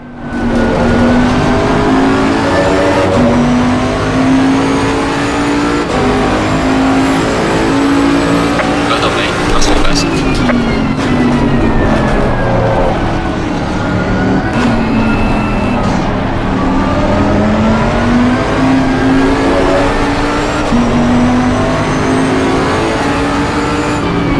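GT3 race cars in Assetto Corsa Competizione, including a Lamborghini, roar around the track with engines revving up and down through gear changes, loud and continuous, while someone commentates over the racing.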